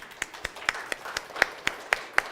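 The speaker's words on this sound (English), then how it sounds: "Can we give Susan a round of applause?" A small family chapel gathering claps for their pianist, a handful of hands giving about ten distinct, fairly quiet claps at a steady, slightly uneven rhythm, with no talking.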